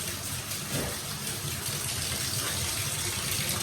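Tap water runs steadily while a Golden Retriever is bathed during home grooming, a continuous near splashing gush for a few seconds with no talking.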